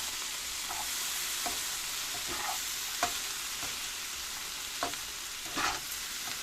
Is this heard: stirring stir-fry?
yes